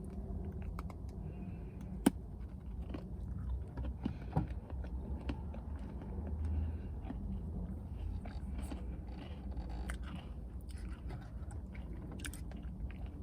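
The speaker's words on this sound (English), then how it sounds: "And I'm eating this cheesecake slice from the Cheesecake Factory." Close, moist chewing and crunching of Oreo cheesecake from The Cheesecake Factory, soft with a crisp cookie texture, steady bites and mouth sounds, no talking.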